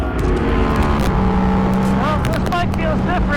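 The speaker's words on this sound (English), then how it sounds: "Mika Kallio was kind enough to let me take his bike for a spin." A 2024 KTM RC8c track motorcycle ridden at speed, its engine a loud, steady roar throughout with rising and falling pitch as it revs through gears.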